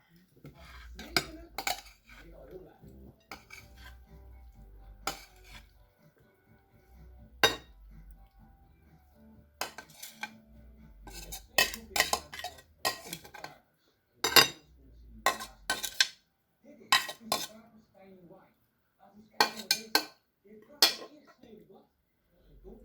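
Glass noodle salad being transferred into a bowl, with bright clinks of cutlery and dishes striking in irregular bursts, some sharp and close, over a low background hum and occasional quiet kitchen handling.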